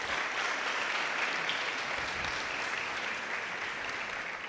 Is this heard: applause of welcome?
yes